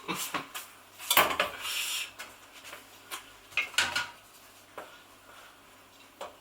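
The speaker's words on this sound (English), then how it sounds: "add the cabbage, and I'm just going to give that a little bit of a mash up as well" Cabbage and leftover vegetables for bubble and squeak are mashed in a pan, producing irregular clanks and scrapes of utensil on metal, fairly close, with no talking.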